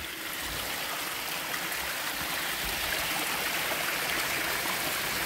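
A small creek in Dawson, Alabama trickles and flows downhill, a steady, broad wash of running water heard close and alone, with no voices.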